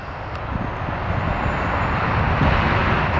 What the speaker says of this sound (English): Where's that train sound coming from?